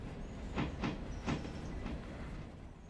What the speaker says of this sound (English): Put the brakes on a bit just to slow the train down.